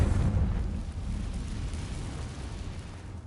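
A Confringo spell explosion in Hogwarts Legacy produces a deep, rumbling blast that starts loud and fades slowly, with heavy low-end boom and no speech.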